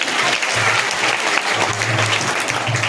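An audience applauds at a Guru Purnima celebration, with dense, steady clapping that stays loud and close for the whole stretch and carries a faint murmur of voices underneath.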